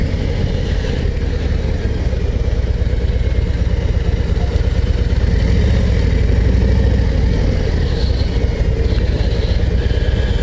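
A 2024 Harley-Davidson Street Glide 117 motorcycle engine running up close, a loud, deep, steady rumble with a throbbing low pulse, continuous and without talk.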